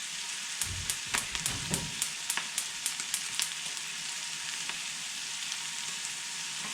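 Bacon sizzles and crackles in a hot pan, with steady hiss and scattered sharp pops, a few louder bursts early on, no voices.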